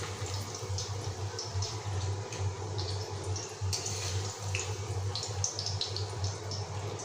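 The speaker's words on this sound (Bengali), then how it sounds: "এগুলো একটু জলে ভিজিয়ে রাখবো এখন।" Water is poured over ingredients to soak them for a paneer recipe, a soft, continuous splashing trickle over a low steady hum in a kitchen.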